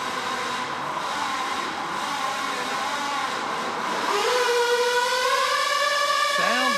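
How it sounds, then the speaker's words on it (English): A two-wheel-drive nitro-powered RC pulling truck at an RC tractor pulling event screams loudly and continuously, its high engine whine rising sharply in pitch partway through as it bogs and revs, sounding very close. "We go another Nitro truck, set up by Ed Fincham"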